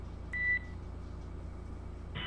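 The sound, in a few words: Quindar tone beeps on SpaceX Dragon communications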